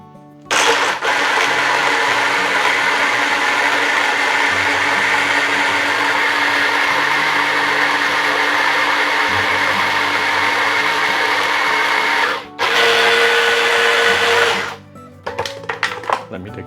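A heavy-duty blender grinds fish paste with thick coconut milk for spicy otak-otak, whirring loudly and steadily up close, cutting out for a moment, surging again, then stopping.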